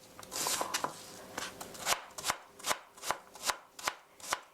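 Knife slicing an onion thinly on a cutting board for a tomato pancake, about a dozen crisp close chops in a steady rhythm, alone with no talking.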